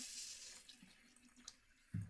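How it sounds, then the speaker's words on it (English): Water trickles briefly into shaving soap in a bowl, a soft faint splash and drip on its own before a louder wet burst at the end. "Add a little bit of water"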